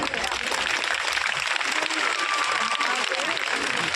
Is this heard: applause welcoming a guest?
yes